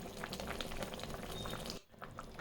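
Bengali fish curry with pabda fish bubbles in a pan, a steady, soft hiss of boiling and sizzling that dips briefly for a moment before resuming.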